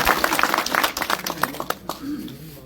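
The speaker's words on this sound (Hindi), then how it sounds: "जोरदार तालियां भाई" Village gathering audience applauding a visiting cabinet minister, a brief spatter of hand clapping that fades out, mixed with voices talking.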